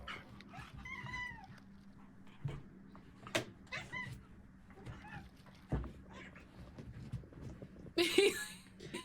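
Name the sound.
pet cat Kyber meowing, a very vocal kitty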